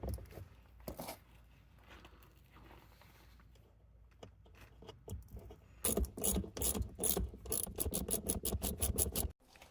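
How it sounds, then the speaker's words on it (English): Bolts are worked back into Club Car DS heavy duty leaf springs on a golf cart, first as faint scattered clicks and scrapes, then as a fast run of sharp ratchet clicks close by; no speech. "Now when I put these bolts back in, I'm going to put some anti-seize on these bolts."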